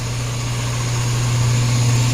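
The A/C compressor of a 2003 Cadillac with a 3.2L engine runs with a steady, loud, close hum and drone, unchanging over the short stretch, with no voices.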